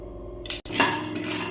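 Raw peanuts tipped into a heated pan on a gas stove over medium flame land with a sudden clattering rattle, followed by a brief scattering sizzle that tapers off, with no talk over it.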